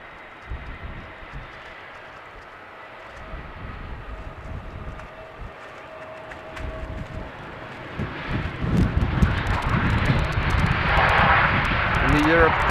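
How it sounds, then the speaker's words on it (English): An EasyJet airliner touching down on windy runway 27 at Amsterdam, engine roar building from faint to a loud rumbling pass near the end, with wind noise and a voice talking over it. "Easyjet about to touch down."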